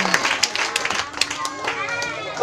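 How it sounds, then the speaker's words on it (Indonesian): A church congregation at an Easter revival service in Tanjung Balai Karimun claps and cheers, a dense ongoing patter of hands with raised voices mixed in, fairly loud and close. "Berikan tepuk tangan bagi nama Tuhan kita Yesus Kristus."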